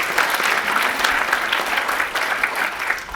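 An audience applauds during a talk on ending veteran homelessness in Santa Cruz County, with continuous, even clapping from a sizeable crowd that stays loud and unbroken throughout.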